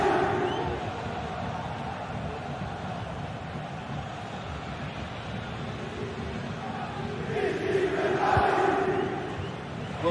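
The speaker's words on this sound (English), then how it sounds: "The crowd certainly think so. Just listen to them." A stadium crowd roars steadily in a football video game match, a dense wall of cheering that holds throughout and swells louder toward the end.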